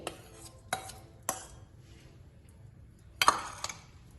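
A pan and metal spoon clink and knock on a stovetop while desi ghee is melted for gundar pak, a few sharp scattered clatters with quiet gaps between, close by and no talk.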